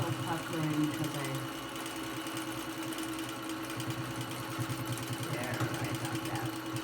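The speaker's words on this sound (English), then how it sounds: "I'm just quilting all these seams down, and it's going over the easy piecing grid, no problem" A sewing machine quilting seams over fusible grid interfacing runs steadily with a fast mechanical chatter, close and continuous, while a person talks over it.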